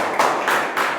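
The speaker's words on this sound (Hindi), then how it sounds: "इनके लिए जोरदार ताली बजाइए" A classroom gives a student a round of applause, a few sharp claps in quick succession, close and loud, with no talking.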